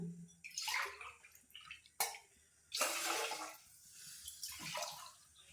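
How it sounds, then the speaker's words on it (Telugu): Three cups of water are poured in several bursts into a cooking pot for jaggery rice pudding, splashing and gurgling up close, with short pauses between pours. "ఇక్కడ మూడు కప్పులు నీళ్ళు వేసుకుంటాను"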